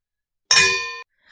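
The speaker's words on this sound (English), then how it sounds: "It's the bell that tolls for someone." A bell struck once in a video game, a bright metallic clang with a ringing tone that decays over about half a second, alone and close.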